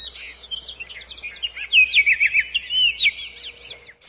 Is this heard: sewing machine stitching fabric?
no